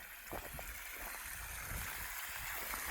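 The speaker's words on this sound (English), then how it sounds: "we got the hose connected to the pump" Water pumped from a ranch pond through a hose running downhill gurgles and trickles steadily, fairly quiet and continuous, with no talking.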